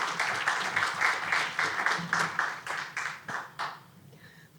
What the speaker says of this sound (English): So again, I want a round of applause.